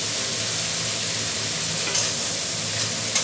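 Onions frying in a pan for a shrimp-head curry, a steady close sizzle with faint stirring clicks and no talking.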